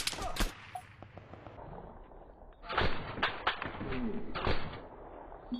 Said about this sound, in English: Quite lucky to get that shot in.